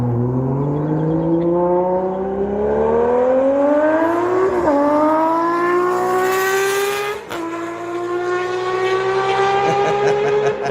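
A sick-sounding GPC 750-style race machine out in the North Woods screams loudly as its engine revs climb steadily, with two sharp gear-change drops before the pitch rises again, no voices over it.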